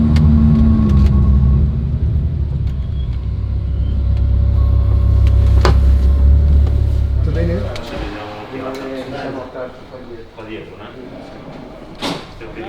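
A race car being driven to the Dallara factory for a quick service and oil change gives a loud, steady engine drone for about eight seconds, then it drops away, leaving quieter knocks and clatter.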